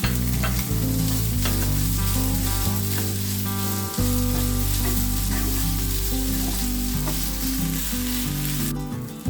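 Raw fish pieces stir-frying Kerala style in a pan, with a continuous loud sizzle and repeated scraping stirs throughout, no voices present.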